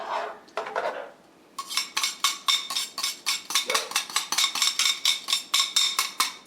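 Garlic being stirred in a pan with a metal utensil, producing a steady run of sharp, rhythmic scraping clinks against the pan, close and fairly loud, following a few softer clatters at the start.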